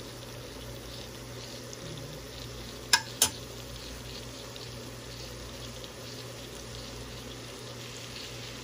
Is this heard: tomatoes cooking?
yes